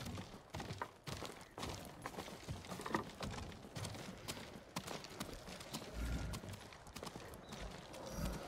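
Horse hooves clip-clop steadily on the ground in the game Ghost of Tsushima, set against a busy outdoor ambience with occasional thuds and soft background activity.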